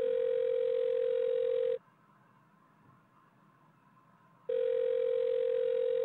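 A telephone dial tone plays in a Chilla's Art karaoke horror game: a loud, steady electronic hum that stops for a few seconds of quiet, then returns at the same pitch.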